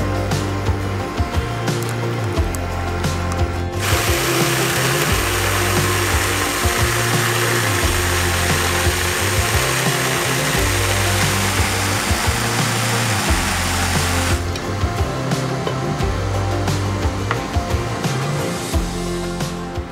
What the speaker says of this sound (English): we're gonna blend it a little bit more while it's in the pot